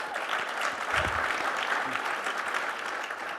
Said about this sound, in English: Wow, let's give that a round of applause,